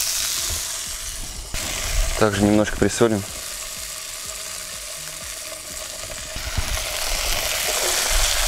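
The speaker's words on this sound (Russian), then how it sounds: "жарим тунцами" Tuna sizzles and crackles steadily in a hot pan, a constant hiss filling the background while a person briefly speaks.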